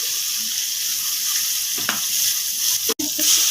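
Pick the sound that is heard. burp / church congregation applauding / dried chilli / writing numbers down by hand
dried chilli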